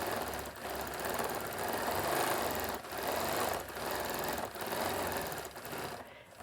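Quilting sewing machine stitching free-motion swirls, a steady fast mechanical chatter running in bursts with brief pauses between them, close and moderately quiet.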